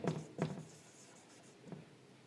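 A pen writes out a maths solution on paper, giving a few soft scratchy strokes in short bursts, quiet and close, with no talking.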